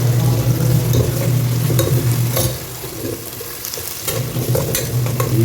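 Onions frying in ghee for biryani, with a steady sizzle and intermittent scraping stirs in a pan, close and loud, a low hum underneath.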